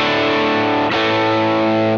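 Electric guitar through a Jet Pedals Mr Jax overdrive pedal set to its blue mode, giving a loud, sustained distorted chord that rings steadily, briefly re-struck partway through, with no voices.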